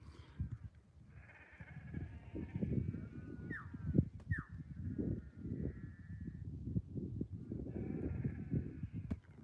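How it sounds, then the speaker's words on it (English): Sheep bleating outdoors near a road, several animals calling repeatedly in overlapping wavering cries at moderate distance, fairly loud and boisterous with no talking. "see if you can hear the sheep"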